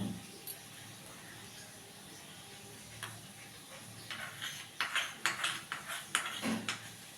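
Spices and three sauces being stirred and fried in a pan for chana masala, with a run of close scraping, clinking spoon strokes and sizzling that grows busier and louder toward the end.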